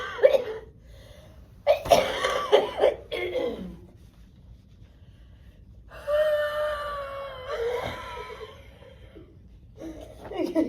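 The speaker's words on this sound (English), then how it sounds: "until you cough and get some secretions" During cystic fibrosis airway-clearance practice, a person gives a series of harsh, wet coughs close by, followed by a longer wheezy, rasping exhalation, with brief quiet gaps between efforts.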